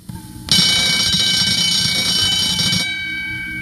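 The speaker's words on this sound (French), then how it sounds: "le réveil matin des enfants sonne" A morning alarm clock rings in a steady, bright metallic jangle for about two and a half seconds, then cuts off sharply, leaving a quiet background with no speech.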